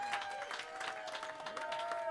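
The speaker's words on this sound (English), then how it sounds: "Let's give Dieter in the 5 seat a round of applause" Applause for a poker player at a final table during a tournament at sea, a short burst of dense clapping with a sustained tone humming underneath.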